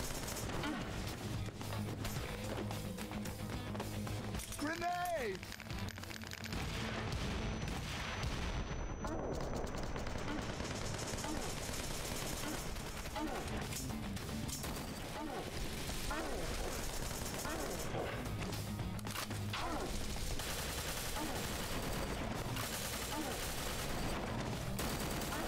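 Gunfire in the action video game Wanted: Dead, with bursts of shots, booms and crashes layered over continuous game sound and music, and a voice talking over it at times.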